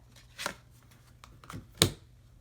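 Tarot cards are shuffled in a few short, quiet riffling bursts separated by pauses, close and soft against a hushed background.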